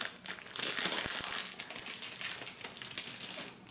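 Crinkly plastic packaging of a Lawn Fawn stamp set being unwrapped by hand, a continuous close rustle with sharp crackles and a few snaps, with no one speaking.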